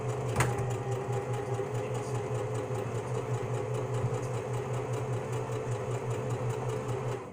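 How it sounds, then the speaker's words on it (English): Domestic sewing machine run from a foot pedal, a steady mechanical whir with a fast stitching hum holding continuously from start to end, close and alone. "let me find my pedal here under my foot. And let's get this sewing going."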